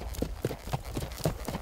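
Hooves of a Mangalarga Marchador horse being worked at a gait, a quick, even clip-clop of several nearby footfalls with no talk.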